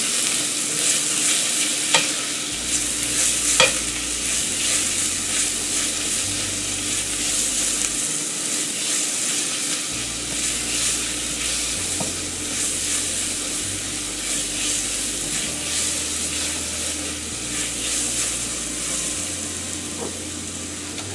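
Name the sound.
onions sweating in oil, being stirred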